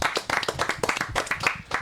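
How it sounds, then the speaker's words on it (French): Studio audience applause on a French television variety show, a few seconds of steady clapping from many hands, close and fairly loud, with no talk over it. "que je demande d'applaudir chaleureusement"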